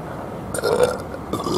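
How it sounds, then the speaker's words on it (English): A person burps during a food review, one long drawn-out belch that swells in the middle and trails off, then a shorter second belch follows, loud and close to the listener. "I really wait that long for a burp."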